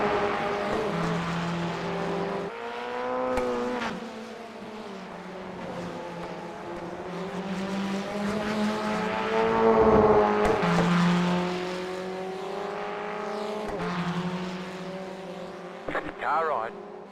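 Race cars in the iRacing sim roar continuously with a high, rising and falling engine whine as gears shift, loud and near, while voices call out spotter-style warnings and chat over the racing noise.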